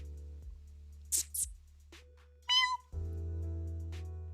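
A couple of short, high meows ring out over a low steady hum, followed by a longer, squeaky cry; the calls sound close and fairly quiet.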